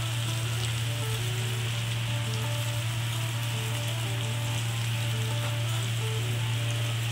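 Spices and tomato for a mutton mince tarka sizzle and fry steadily in a pan, with a constant close hiss and crackle and no pauses or voices.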